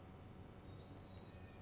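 Mikado steam train running on a railway in the video game Transport Fever 2, a faint steady rolling rumble with a thin high wheel squeal across a short stretch.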